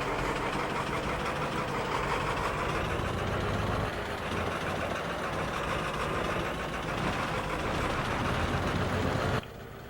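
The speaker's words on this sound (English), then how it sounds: "Pickup truck, get that back home." An old Ford pickup truck in Farming Simulator 22 idling and driving, a steady mid-pitched engine drone held at an even loudness, close and with no talk, cutting off at the end.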